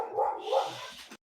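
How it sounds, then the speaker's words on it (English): Dogs in a video game let out a brief flurry of close, loud barks and yips that cut off abruptly, with no talking over them. "They're all barking now."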